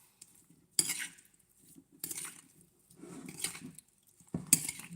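Himalayan salt and a little sesame oil being mixed in a bowl, four separate bursts of spoon clinking and scraping against the dish separated by quiet gaps, close, with no talk.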